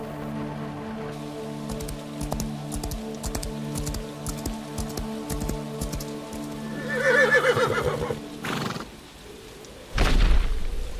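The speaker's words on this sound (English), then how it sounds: "he finally heard the carriage approach" A horse-drawn carriage approaches with steady clip-clop hoofbeats under a rumbling, creaking drone, then a horse gives a loud whinny followed by another burst of noise near the end.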